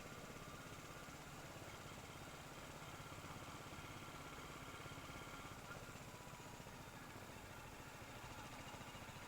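A motorcycle engine runs in third gear on a rough country road, a quiet, steady mid-pitched drone with a faint pulsing vibration throughout.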